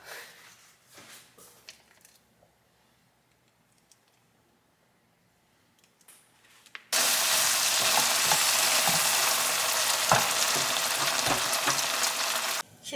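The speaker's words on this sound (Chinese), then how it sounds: "现在要来爆香那些料，所以我直接用刚刚爆香那个春酱的那个油进来爆香" Aromatics hit hot oil left from frying chunjang black bean paste for Korean jajangmyeon, a loud steady sizzle bursting in after quiet kitchen handling and running on close and strong to the end.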